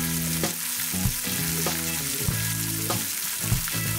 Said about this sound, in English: Maybe even a quick sear to really make the flavors come alive.